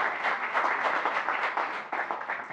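An audience applauds a Dean's Speaker on artificial intelligence for Earth: dense, steady clapping from many hands fills the room without pause, with no voices over it.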